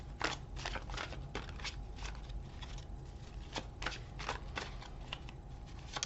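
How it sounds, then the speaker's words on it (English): Tarot cards being shuffled at a reading table, a series of quick, crisp riffling bursts with short pauses between them, fairly close and quiet, with no talking. "while I'm shuffling the cards"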